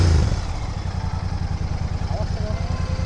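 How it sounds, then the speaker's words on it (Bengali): A Royal Enfield Bear 650, a heavy twin-cylinder six-speed scrambler, idles close by with a fast, even thumping pulse and a slight clatter that runs steadily from start to finish. "হ্যাঁ দুটো ইঞ্জিন চলছে"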